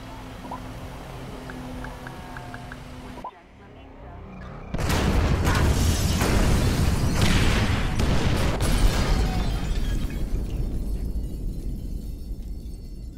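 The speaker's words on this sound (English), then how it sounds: "Detonate the incendiaries, Frank." Incendiary explosions in GTA 5 erupt after a quieter stretch with a soft tonal cue, then a sudden loud roaring blast sustains into dense, crackling burning and rumbling debris for many seconds, gradually easing toward the end.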